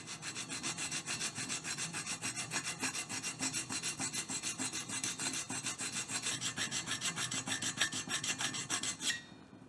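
A hand file rasps steadily in fast, even strokes across a damaged aluminum fin under repair in a workshop, close and continuous for about nine seconds before stopping, with no talking.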